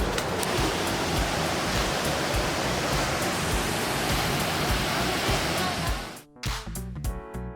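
Small, low waterfall with a massive volume of water pouring through it, a dense, loud, steady roar filling the scene for about six seconds before cutting off abruptly into quieter, broken sound.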